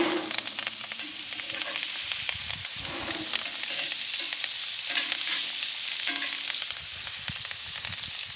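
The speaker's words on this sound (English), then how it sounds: "I'm going to move them around a bit. Just I want to make sure that they all get a nice and even sear." Duck breasts searing skin-down in a hot pan as their fat renders, giving a loud continuous sizzle and crackle close by, with occasional shuffles and scrapes as the pieces are moved around.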